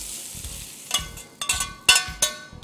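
Onions frying in a pan with tuna for a Russian salad, a soft steady sizzle broken by several sharp utensil scrapes and taps at irregular intervals, close up.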